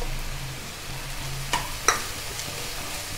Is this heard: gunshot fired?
no